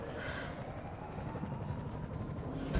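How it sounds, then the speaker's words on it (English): Helicopter in the video game Resident Evil 3 Remake, a steady low rotor drone hovering at a parking garage roof, held at a fairly even level throughout with a brief louder burst at the very end. "There's a helicopter waiting to take you to safety."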